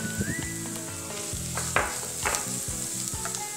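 Shredded boiled chicken and carrot sizzle and fry in a pan while being stirred, a steady close crackle with scraping strokes and no talking.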